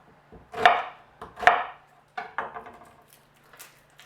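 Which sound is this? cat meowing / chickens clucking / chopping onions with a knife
chopping onions with a knife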